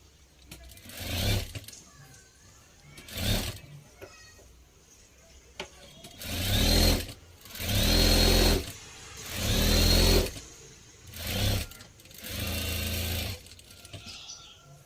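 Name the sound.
sewing machine stitching a sleeve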